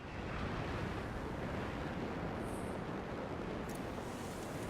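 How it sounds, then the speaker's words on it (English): Steady rushing water of a waterfall in the video game Anthem, a continuous broadband roar that stays loud and even throughout with no voices. "waterfall ahead if you want to cool your suit"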